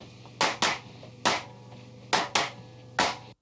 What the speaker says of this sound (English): it just adds a little kind of crunch to the middle, almost like a snare sort of sound to the claps